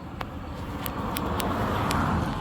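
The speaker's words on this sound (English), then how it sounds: "Apologize for the car noise" Car traffic passes outdoors near a 2011 Acura RDX that won't start, a continuous broadband roadway roar that swells slightly, with a few faint high clicks.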